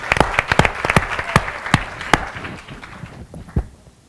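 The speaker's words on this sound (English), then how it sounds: "How about a big round of applause for our new sponsors for 17?" An audience applauds new sponsors at a public conversation event, a sparse round of separate, crisp claps rising briefly and then thinning out to a few last hands.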